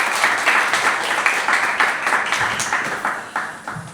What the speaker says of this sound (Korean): 감사와 기대를 담아 조만간 박수로 환영해 드리겠습니다